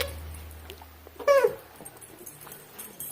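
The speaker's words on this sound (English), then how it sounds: "Our dog is playing with his toy right now, so the weird squeaks" A pet dog plays with a squeaky toy indoors, giving one short, sharp squeal around the middle over a quiet background, with faint rustling.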